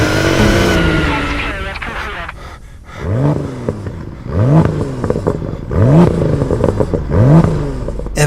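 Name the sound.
BMW M2 F87 with Akrapovic exhaust revving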